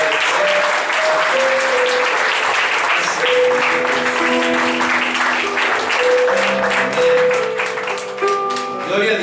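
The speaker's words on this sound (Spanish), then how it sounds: "Vamos a darle una ofrenda de palmas a nuestro Dios." Church congregation clapping during a Sunday morning worship service, steady loud applause filling the room throughout, with sustained musical tones underneath.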